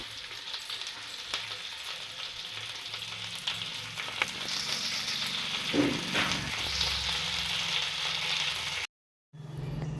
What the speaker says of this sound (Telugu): ఇప్పుడు ఆ కరివేపాకుని వేపుకోవాలి ఆయిల్లో